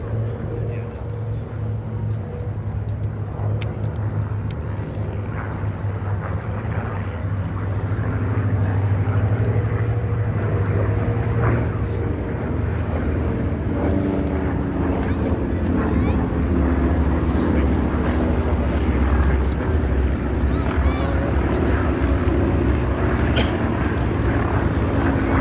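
Aircraft engines drone and rumble steadily at the Duxford D-Day 80th anniversary airshow, a distant, continuous propeller hum that swells slightly midway, with a voice talking over it.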